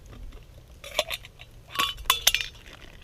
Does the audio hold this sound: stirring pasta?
yes